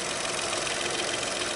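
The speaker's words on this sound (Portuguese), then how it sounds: "Volkswagen Up revisado, vocês podem ver que o motor não treme tanto assim não, tá?" A serviced Volkswagen Up engine idles steadily at close range, a continuous smooth mechanical hum with no talking over it.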